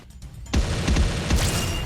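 M4A1 rifle gunfire in the shooter video game Bullet Angel, a sudden loud burst of rapid booming shots that fills the short clip after a quiet start.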